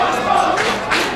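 A pro wrestling crowd at an Ace Pro Wrestling event roars steadily behind Tommy Dreamer as the action spills among the fans, a dense wash of cheering that swells in two brief surges.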